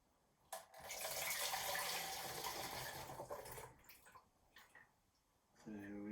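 Elderflower cordial pours into a bottle in a steady splashing stream that tapers off into a few trickles, followed by a short clink.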